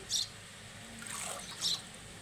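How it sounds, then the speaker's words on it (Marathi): Mung lentils are swished in water through a sieve, giving soft sloshing and splashing with two brief brighter splashes near the start and end, fairly quiet and close. "त्यासाठी आम्ही चाळणीनं धुतो डाळ."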